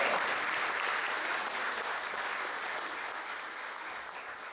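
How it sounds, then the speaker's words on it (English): An audience at a talk breaks into sustained applause, dense clapping from many hands that slowly fades in loudness over several seconds. "You should give yourselves a round of applause for that."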